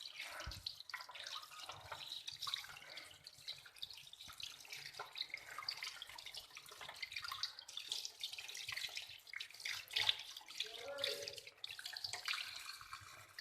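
Tap water runs steadily over fish pieces being washed in a sink, a soft continuous splashing and trickling with small clatters, faint and close, with no talking.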